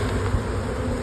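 Honeybees at an open nuc hive give a dense, continuous buzz, loud and close, crowded with many bees and steady throughout with no voices.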